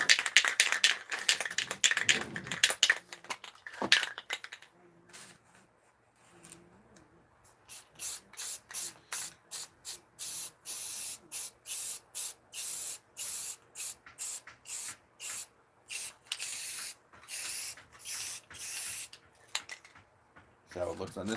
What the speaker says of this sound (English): We'll use camouflage paint, this particular kind, by Rust-Oleum.